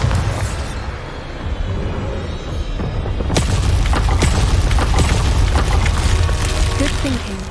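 Bombarda spell explosion in the Hogwarts Legacy video game: a loud blast hits a few seconds in and rumbles on with crackling debris over a steady low background.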